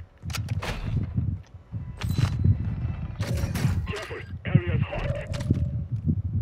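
Gunfire in a multiplayer shooter match, with several sharp bursts and shots scattered among players' talk and game sounds, fairly close and moderately loud.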